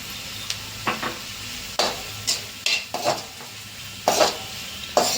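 A spoon scrapes and clacks against a pan in irregular strokes as a Manchurian sauce mixture with black pepper and green and red chili sauces is stirred, with a soft sizzle underneath and no talking.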